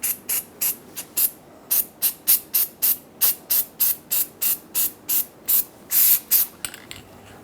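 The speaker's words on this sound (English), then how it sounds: "I'm using a spray anti-seize" An aerosol can of anti-seize is sprayed onto a Ford F-250 Super Duty front wheel hub in a series of about twenty short, sharp hissing bursts in quick rhythm, close and fairly loud, with one longer burst near the end.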